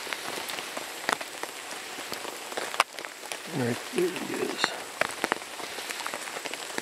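Rain patters steadily on a tarp over a camp cooking area in Glacier National Park, a close, even drumming with sharp individual drops, while someone briefly speaks partway through.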